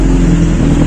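A motorbike engine revs at full throttle, a loud, steady, close-up mechanical roar that holds through the whole second with little change.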